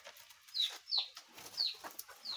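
Chickens at a village home, a rooster among hens. Short, faint clucks and calls repeat at a quick, uneven pace over a quiet background, with no one talking.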